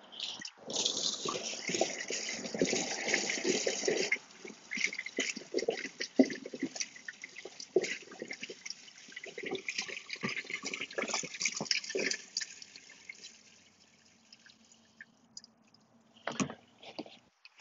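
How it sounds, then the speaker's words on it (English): A Thetford cassette toilet tipped and emptied, its contents pouring out in a gushing, splashing stream that sputters and thins toward the end before a final few glugs, close by with no talk. "And then I just tip in and empty the contents."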